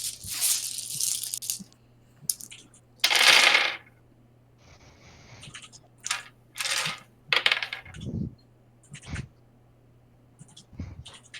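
Dice tumbling and clattering across a table during a fantasy tabletop role-playing game, several separate sharp rattling bursts close by, with quiet gaps between and a low steady hum underneath.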